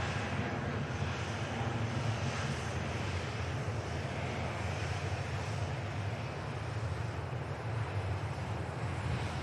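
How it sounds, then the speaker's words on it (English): A Pegasus Airlines airliner, a Turkish carrier, takes off at Manchester Airport bound for Istanbul, its engines giving a steady, loud broadband roar that holds evenly throughout with a constant rushing wash and no talk. "Turkish carrier Pegasus begins the journey to Istanbul"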